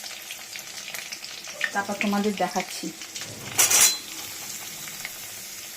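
Onions with nigella seeds and chillies go into hot oil in a pan, a soft sizzle under a voice, followed by a brief louder hiss of frying.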